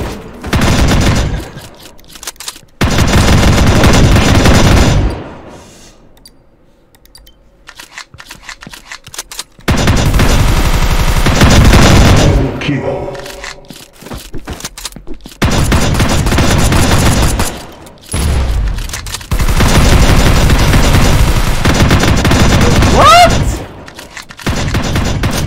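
Bursts of gunfire from the shooter video game Tactical Operations Force, loud repeated volleys and rapid fusillades separated by short quieter gaps, with no talk over them.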